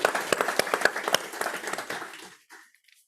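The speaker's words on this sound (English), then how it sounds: "let's give the panelists a round of applause" A meeting audience applauds panelists at an annual gathering, a dense burst of many hands clapping that quickly thins and fades out to near silence.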